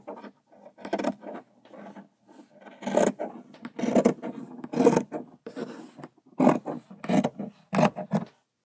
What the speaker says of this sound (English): And then you're going to go and cut all this excess fabric.